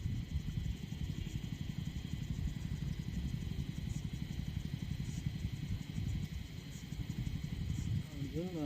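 A motorcycle engine runs steadily with a low, rumbling drone and some mechanical clatter, close by and continuous throughout.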